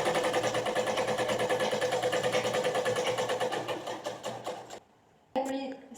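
Sewing machine stitching a baby frock runs steadily and close for nearly five seconds, stops briefly, then starts again in a short burst; a voice speaks over the motor.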